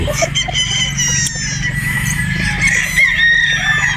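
A battle stag rooster crows repeatedly, loud and close, with a few clucks from other fowl around it and no talking.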